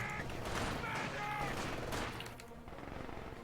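Small arms fire crackles in bursts through a World War II strategy game battle, fairly close and busy, layered under in-game voice callouts and battle noise, easing off toward the end.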